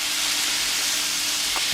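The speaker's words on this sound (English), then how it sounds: "You can do it in a wok, because we're potentially just stir frying" Carrots and other vegetables stir frying in a wok over high but not top heat, giving a steady close sizzle with a faint stirring scrape near the end and no talking.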